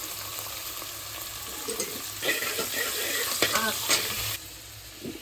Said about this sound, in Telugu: ఇప్పుడు ముందు దీన్ని గరిటతో తిప్పుదాం